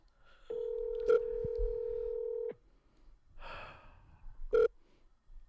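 A steady telephone tone holds for about two seconds with a keypad beep over it, then a soft breath and another short dial beep, close and clear in a quiet room as a call is placed.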